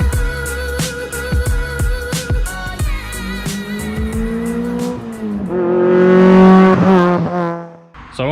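Road traffic passing close by, with loud engines revving, accelerating and roaring past and a tonal whine from a passing vehicle, continuous and dense throughout.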